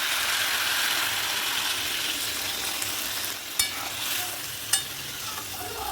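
Fish heads already browned in a pan hiss and sizzle steadily after a little water goes in, with a couple of sharp clicks from a spoon or lid near the end and no talking.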